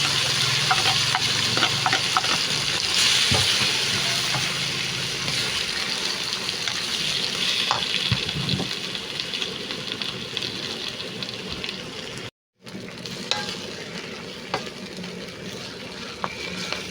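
Tomatoes and mudfish cook in a frying pan, giving a continuous close sizzle and crackle with occasional clinks and scrapes. A brief dropout breaks the sound partway through.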